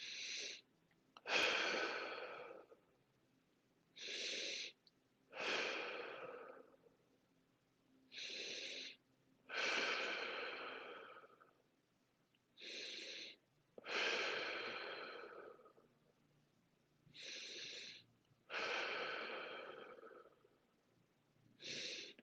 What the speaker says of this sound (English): You can do your breathing.